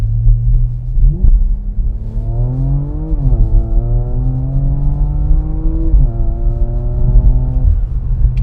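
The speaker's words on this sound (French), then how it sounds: "Il va faire une autre petite accélération" A Porsche Macan GTS engine on a dynamometer rumbles at a low idle, then revs up in rising sweeps with a brief dip around the middle, close and loud with no talking.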